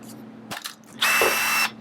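A Metabo cordless drill whirs in a short, loud burst lasting about half a second after a few faint clicks and handling sounds nearby.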